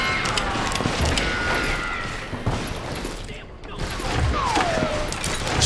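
Gunfire in the Western shooter Call of Juarez: Gunslinger during a Dalton gang bank robbery, a dense barrage of rapid shots and ricochet whines layered with shattering debris, while a voice talks over the action.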